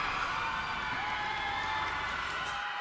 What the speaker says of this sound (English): Hear the crowd roar as a sea of agents cheer on Blacklist International with that game 1 victory.